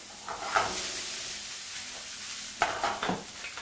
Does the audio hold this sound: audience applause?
no